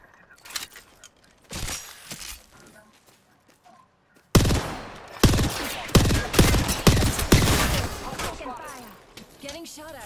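Enemy gunfire in the Apex Legends video game, scattered shots at first and then a loud, rapid run of close cracks and bursts. Speech is mixed in among the shots.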